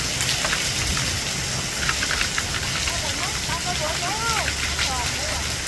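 Heavy rain pours down in a steady, loud wash of hiss and patter, with faint bird calls and a low rumble underneath.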